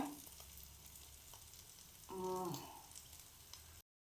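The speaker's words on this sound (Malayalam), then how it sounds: "ഇതാ മത്തി മറിച്ചിട്ട് കൊടുത്തിട്ടുണ്ടേ ഇനി ഇത് നന്നായിട്ട് ഈ ഭാഗം കൂടെ വേവട്ടെ" Sardines frying in a pan: a low, steady sizzle sits under a brief mid-clip tonal sound before the clip cuts to silence.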